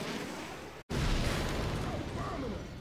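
Bomb blasts in the video game Left 4 Dead 2, a sustained loud rumbling roar broken by a brief cut, continuing as a dense booming wash with voices faintly under it.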